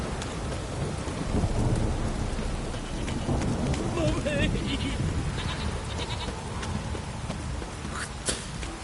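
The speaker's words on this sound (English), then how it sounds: "This downpour's a bastard, it is." Heavy rain in a video game pours steadily throughout with a dense hiss, low rumbling beneath it, and faint bleating sounds rising briefly in the middle.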